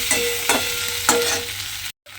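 Potol curry with ground spice paste and cashews sautés in a pan, a dense steady sizzle broken by three distinct stirring scrapes, close and loud, with a brief cutout near the end.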